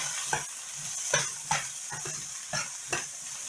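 Steak fajitas are stirred in a hot pan, a soft steady sizzle punctuated by about six distinct scraping and clinking strokes of the utensil against the pan, close and without talk.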